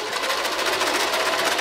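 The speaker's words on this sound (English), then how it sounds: "So I'm just loading it in place in my sewing machine" A sewing machine runs steadily up close, its rapid mechanical stitching forming a continuous buzzing whir.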